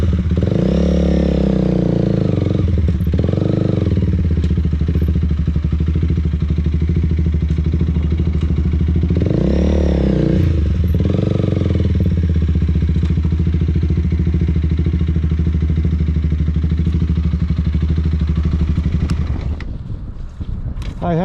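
A motorcycle rides through a California DMV skills test course, its engine droning loudly and steadily with a few rising rev swells as gears shift, fading and sputtering near the end.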